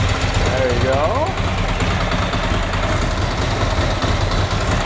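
A motorcycle engine idles steadily right after start-up, with a loud, continuous low rumble and an even throb that holds for the whole stretch, while people talk nearby.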